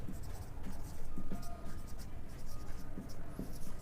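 Pen writing out a calculus equation on paper, close, continuous scratching and tapping strokes in short bursts with a faint background hum.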